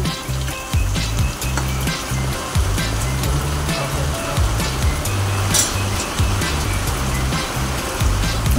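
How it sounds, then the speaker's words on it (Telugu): Sweet corn kernels frying in hot oil in a home kitchen pan, a steady loud sizzle and crackle running throughout with occasional scraping knocks, no talk. "ఇప్పుడు మనం కలుపుకున్న స్వీట్ కార్న్ని అందులో వేయాలి. కొంచెం ఫ్రై లెక్క చేసుకోవాలండి."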